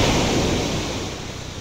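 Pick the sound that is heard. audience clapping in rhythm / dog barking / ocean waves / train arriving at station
ocean waves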